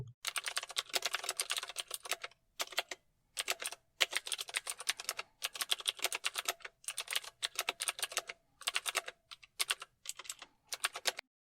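Brisk typing on a computer keyboard, clicking keys in rapid bursts separated by short pauses, close and fairly quiet, with no voices.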